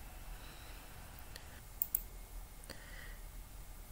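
A few quiet computer mouse clicks, two close together near the middle and another shortly after, over a faint steady room hiss.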